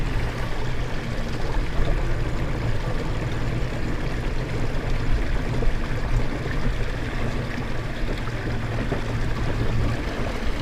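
A 55-pound-thrust electric trolling motor running on a kayak gives a steady low hum under continuous water rush and splashing, loud and close throughout with no talking.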